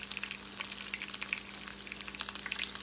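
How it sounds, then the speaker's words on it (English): Crawfish corn fritters fry four at a time in a skillet, giving a continuous crackling sizzle with dense irregular pops, close and moderately quiet, with no voices. "You have to fry the first 1 or 2 up to get your fire where you want it."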